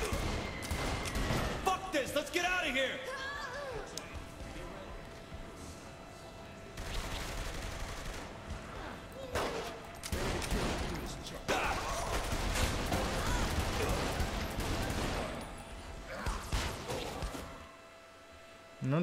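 Gunfire in the video game Saints Row: The Third comes as scattered bursts of shots and impacts amid game noise, with someone talking over parts of the action.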